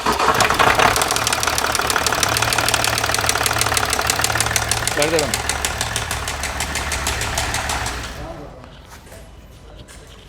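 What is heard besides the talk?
Range Rover Sport V6 engine idling with heavy knocking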